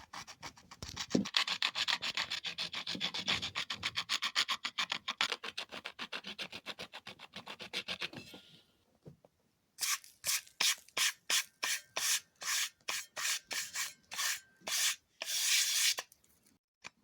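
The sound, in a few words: scraping old glue off a Kenwood speaker cone edge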